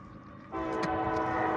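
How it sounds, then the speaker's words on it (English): A freight train led by an RF&P heritage locomotive sounds a loud, sustained horn that starts abruptly and holds steady over the low rumble of the passing train in falling snow. "we got another heritage unit on a train behind this one"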